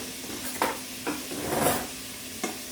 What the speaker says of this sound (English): I'm stirring the bacon so they don't cook too much on one side.